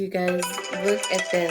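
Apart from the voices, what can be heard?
phone notification sound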